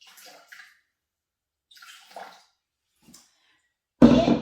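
Water poured into the bowl of a Thermomix TM6 kitchen machine, 250 g for plain yogurt: a loud, sudden splashing gush that starts late, after stretches of quiet with faint clatter of preparation, close by.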